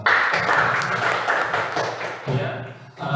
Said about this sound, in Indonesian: mari kita berikan tepuk tangan untuk Witanti dan Pak Yos